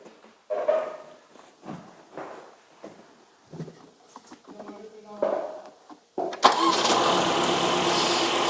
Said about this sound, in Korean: 시동 한번 걸어주세요.